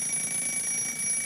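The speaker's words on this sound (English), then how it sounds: "The sound of an alarm clock travels to our ears through vibrating particles in the air." Alarm clock ringing steadily and continuously at moderate volume, a sustained bright tone with no pauses and no voices.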